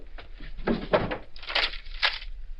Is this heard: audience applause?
no